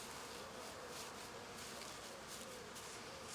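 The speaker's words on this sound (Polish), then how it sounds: "Tu też pszczoły kombinują." A steady, dense buzzing of many honeybees during an apiary hive inspection, continuous and fairly faint, with no voices or other sounds.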